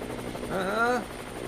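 A helicopter's rotor and engine drone holds steady, swelling briefly louder in the middle, mixed with speech-like tones.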